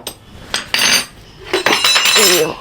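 A metal spoon clattering onto a hard floor in a home kitchen, several sharp bright clinks and a rattling bounce, close and loud, followed by a short scraping clatter.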